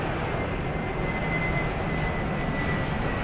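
An airliner taking off in the airport-control game Airport Madness 4 produces a steady, even jet-engine roar that stays at a constant level throughout, with no voices.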